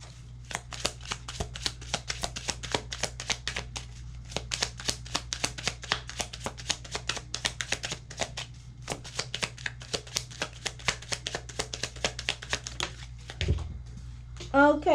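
Tarot cards shuffled by hand in rapid, crisp riffling flicks that run almost continuously, close and clear over a low steady hum, with a brief voice near the end.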